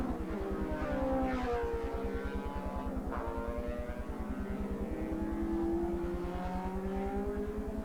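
Racing sidecar outfits at Manfeild in 1985 roar along a straight, their engines droning loudly with rising and falling pitch as they accelerate and brake, a steady pulsing rumble heard at a moderate distance.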